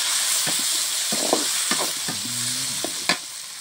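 Beans, onion and tomato fry in a pan under a constant hiss of sizzling, broken by several distinct scrapes and clanks of a stirring spoon against the pan.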